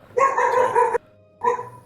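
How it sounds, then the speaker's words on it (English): Dogs bark close by, a long burst of overlapping barks followed by a brief pause and another shorter bark. "My dogs are out."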